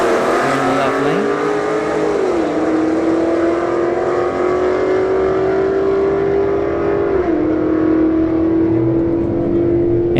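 A Dodge Hellcat at a drag strip, a loud sustained engine roar climbing through the gears with two audible shifts as it pulls steadily away over about ten seconds.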